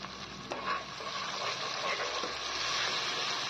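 Spice paste with salt, turmeric, Kashmiri red chili powder and ground roasted cumin frying in a pan for a Bengali mutton curry. It gives a steady, close sizzle with a few stirring scrapes and no talk.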